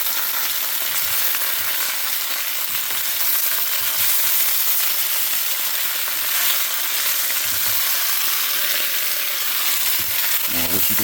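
Potatoes and onion sizzle steadily in a skillet as spices are stirred in, a loud continuous hiss with occasional scraping and clinks of the spoon, no voices.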